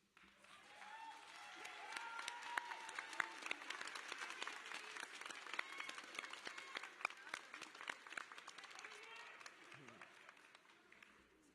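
A crowd at the Collinwood High School 2023 graduation ceremony applauds, dense clapping swelling and holding for about ten seconds before tapering, with faint voices mixed in.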